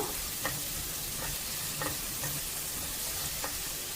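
Half an onion fries quietly in hot oil for a Kundapura chicken curry, with a soft continuous sizzle and a few light, regular stirring taps against the pan.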